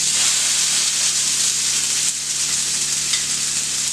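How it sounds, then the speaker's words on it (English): Sweet potato hashbrown patties fry in extra virgin olive oil, giving a loud, steady, close sizzle with a continuous bright hiss throughout. "So now I'm just gonna gently place these onto the burner. There is a little bit of extra virgin olive oil on there."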